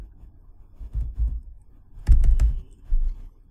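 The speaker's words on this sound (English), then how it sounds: "So I'm going to type in some URL here." Someone types a URL on a computer keyboard: soft low thumps of keypresses, then a brief burst of sharper clicks in the middle, close and fairly loud with no talking.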